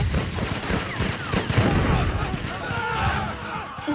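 Anime gunfire in a rapid volley, dense crackling bursts packed together over a few seconds and mixed with shouting voices and other action noise.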